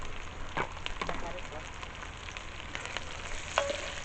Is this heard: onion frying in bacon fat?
yes